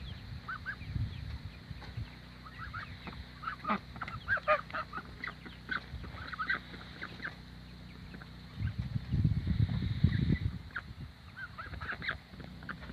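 Ducks and geese on a homestead bathing, honking and quacking in scattered bursts at moderate distance, with a louder flurry of low splashing and calls near the end, no talking.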